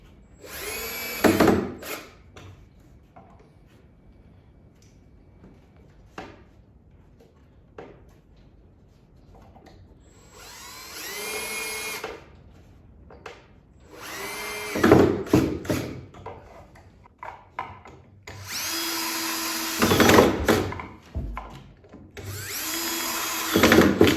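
A power drill drives coarse 1 1/4 inch pocket hole screws into cabinet wood in several short whirring bursts, separated by quiet pauses with light handling clicks, close and fairly loud.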